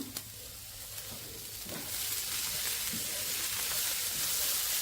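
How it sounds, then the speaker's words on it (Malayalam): Cabbage and carrot are stir-fried and mixed in a pan, a broad sizzle that swells louder partway through, with a couple of faint scrapes from mixing. "അതും കൂടെ ഇട്ട് നമുക്ക് നന്നായിട്ട് മിക്സ് ചെയ്തെടുക്കാം."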